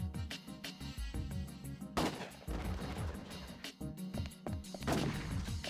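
Rapid gunfire from the video game Ghost in the Shell Stand Alone Complex, with loud repeated shots and bursts sounding close throughout, alone with no talking.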